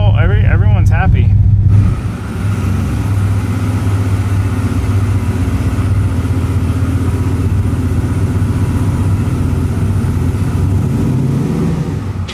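A turbocharged LS-powered street truck idles steadily at close range, a low, even rumble holding constant throughout after a brief burst of talk at the start.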